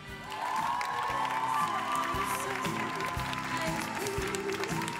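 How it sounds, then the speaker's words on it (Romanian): Loud crowd applause and cheering at a school freshman ball, with music playing steadily underneath and voices shouting over the clapping throughout. "aplauze!"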